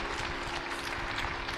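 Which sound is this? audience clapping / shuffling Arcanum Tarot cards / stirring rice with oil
audience clapping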